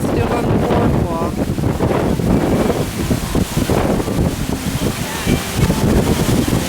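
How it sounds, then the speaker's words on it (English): Strong wind roars steadily across the microphone at Venice Beach, California, where blowing sand sweeps the boardwalk. The gusts are loud and constant, and a voice talks faintly beneath them. "I don't know what we can do in this wind."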